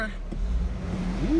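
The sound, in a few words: 2004 Escalade 6.0L LQ9 V8 engine revving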